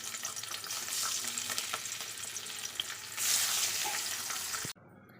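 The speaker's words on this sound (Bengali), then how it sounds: "তেল গরম হয়ে গেছে, এবার একে একে মাছগুলোকে ছেড়ে দেব।" Singhi fish frying in hot oil over a low flame, a steady loud sizzle and crackle that swells briefly near the end before cutting off abruptly; no talking.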